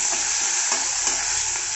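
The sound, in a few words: stirring onions frying in refined oil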